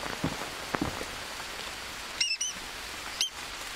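Steady rain patters in the jungle survival video game Green Hell, a soft continuous hiss with scattered drop ticks and a few faint chirps on top, no voices.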